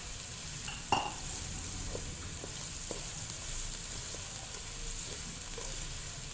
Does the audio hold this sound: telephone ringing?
no